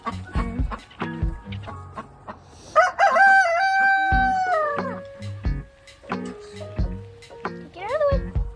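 A loud rooster crows in long drawn-out calls amid chickens and hens on a farm, with a person talking close by between and over the calls.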